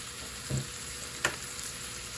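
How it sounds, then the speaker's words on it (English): Beef pot roast searing in a hot pan, a faint steady sizzle with a couple of brief louder pops or bumps, no talking. "after it sears off for 2 minutes, we're gonna flip it over on the other side"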